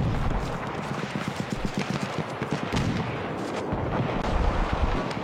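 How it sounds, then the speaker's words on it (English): Gunfire crackles through a team-based video game match, a dense run of rapid, rumbling bursts and pops sounding at moderate distance under a continuous wash of noise. "I can hear gunfire."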